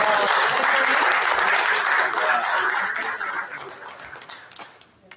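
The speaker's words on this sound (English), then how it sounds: "a round of applause, please, for Vice President Kellen" Applause at a school district board of education meeting for Vice President Kellen: a full round of clapping from the room that holds strong, then thins and fades out toward the end.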